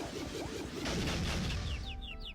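Cartoonish dizzy chirping from a video game, a quick run of short rising bird-like tweets stacked over a busy burst of crashing game effects, seeing-stars style.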